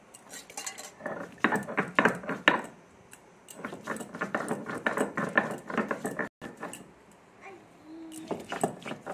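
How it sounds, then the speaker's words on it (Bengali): Ginger is ground into a paste, heard as rhythmic bursts of gritty scraping and knocking in quick repeated strokes, close and moderately loud, with a short pause partway through. "আদাগুলো আমি বেটে নিচ্ছি"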